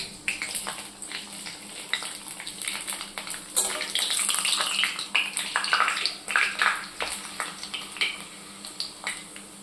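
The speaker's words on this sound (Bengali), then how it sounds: "এই যে পাঁপড়গুলো ভেজে নিই" Shrimp papad crackers frying in hot oil, a steady close crackling sizzle with bursts of bubbling that swell midway and continue throughout.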